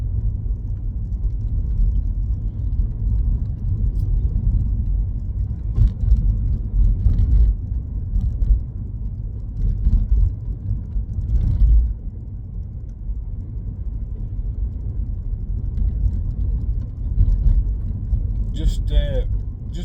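An automatic car coasts along a road, giving a steady low engine and road rumble with tyre whir that stays level throughout, with brief swells and faint clicks near the end.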